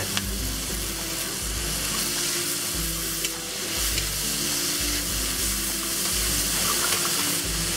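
Chicken pieces and asparagus stir-fry with dark soy sauce in a hot pan, a loud, continuous sizzle with occasional stirring scrapes and no talking.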